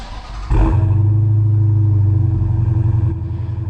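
A 2018 Dodge Challenger R/T Scat Pack with a 6.4-liter Hemi V8 and six-speed manual fires up or blips loudly, then settles into a deep, steady, rumbling idle close by, with no voices.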